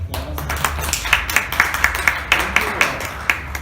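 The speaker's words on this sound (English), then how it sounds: "let's give our panel and Sylvie another round of applause." Sparse clapping from a small audience thanking a panel at a public agricultural research event, a handful of distinct hand claps in an uneven rhythm, fairly close and modest in volume.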